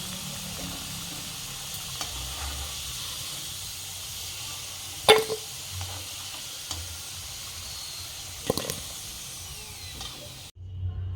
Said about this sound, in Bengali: আলুগুলো লাল লাল করে ভেজে নিয়েছি, এগুলো তুলে নেব।